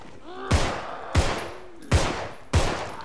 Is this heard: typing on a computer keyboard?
no